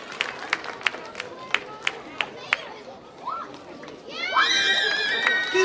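Scattered hand claps from an audience at a Hindu temple celebration for children who chanted shlokas, then a swell of cheering crowd and children's voices near the end.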